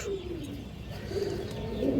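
Fancy pigeons, including Madrasi stone-eyed birds and Afsan Bagha types, coo in a loft with low, repeated rolling calls, close by and swelling toward the end.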